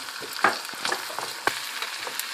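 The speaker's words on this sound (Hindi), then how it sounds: "अब मैं इसमें ये आलू डाल दूँगी, इसको थोड़ा फ्राई करूँगी" Potatoes fry in a pan with a soft, steady sizzle, broken by irregular sharp clicks and scrapes as a spoon stirs them close by. No voices.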